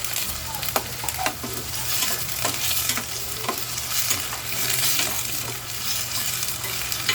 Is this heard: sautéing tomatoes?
yes